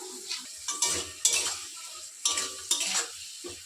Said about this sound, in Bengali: এবারে ভালো করে সবজিগুলো মশলাটার সাথে কষে নেব